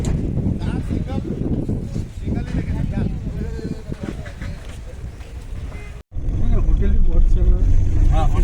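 A Maruti WagonR travels from the airport toward Gangtok with a steady engine and road rumble inside the cabin while people talk over it. The noise cuts out briefly and then returns louder.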